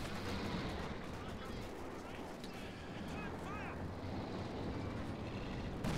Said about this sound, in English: Come on, Jackson. Shoot